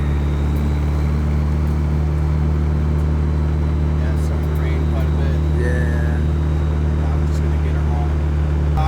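A Nissan 240SX with a turbo KA24DET engine drives along at a steady, loud, close drone with a low hum, and a voice speaks over it.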